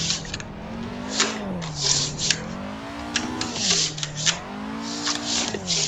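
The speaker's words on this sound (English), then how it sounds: "It's good for practicing linking drifts and flicking backwards and forwards." A car drifting around the Ebisu school course in Assetto Corsa, the engine note rising and falling in repeated swells as the car links slides, with bursts of tire squeal over the top.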